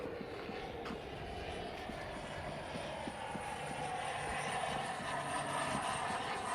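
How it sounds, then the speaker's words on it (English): A private jet flies overhead, a steady broad roar that swells slightly louder over several seconds with no pause. "Oh, it's that nice plane that was flying over yesterday. It's a nice private jet."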